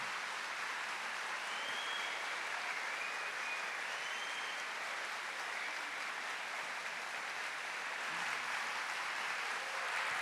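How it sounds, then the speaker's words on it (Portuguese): Applause from a Catholic congregation during a talk by a priest on why he is Catholic: a continuous, even wash of distant clapping filling the hall, with no speech over it. "Uma salva de palmas."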